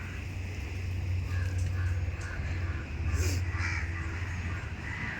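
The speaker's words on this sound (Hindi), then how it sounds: "तो यहाँ पे आप देख सकते हैं कौवे आ गए हैं, और कैसे अपनी रोटी के टुकड़े ले लेके जा रहे हैं वो।" Crows gathered in a row, taking pieces of roti outdoors, with caws only faintly audible over a steady low rumble of background noise.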